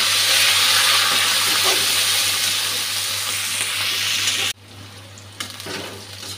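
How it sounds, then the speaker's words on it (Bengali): Onions and green chillies frying in oil with a bay leaf make a loud, dense sizzle that runs steadily, then drops abruptly to a much quieter crackle with a light clatter near the end. "পেঁয়াজটা ভাজা হয়ে এসছে,"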